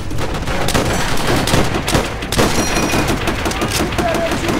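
Sustained machine gun fire and scattered rifle shots in the World War II shooter Call of Duty: World at War, dense overlapping bursts with distant booms, loud and continuous with a faint voice underneath.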